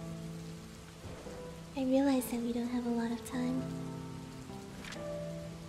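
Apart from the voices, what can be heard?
rain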